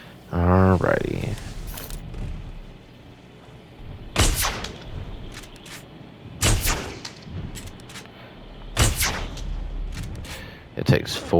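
Four loud, evenly spaced gunshots boom at a Brachiosaurus in Jurassic World Evolution, each a sharp crack with a short echoing tail, after a brief spoken line at the start.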